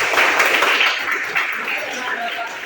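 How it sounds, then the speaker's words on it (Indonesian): Brief round of clapping from a classroom of students, loud and fairly dense at first then thinning, with voices mixed in. "Oke, tepuk tangan dulu buat"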